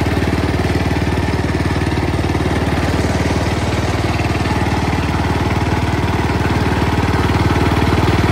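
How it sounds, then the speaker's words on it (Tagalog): A mini dump truck's engine idles smoothly and steadily up close, with an even low rumble and a fast regular pulse throughout. "kung narinig nyo, tahimik ang motor or engine"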